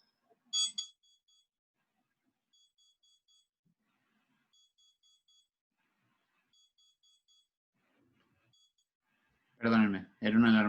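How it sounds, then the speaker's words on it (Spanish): Alarm going off indoors: a short burst, then a faint repeating pattern of small electronic beeps in spaced groups, followed by a person speaking close by. "era una alarma que estaba puesta"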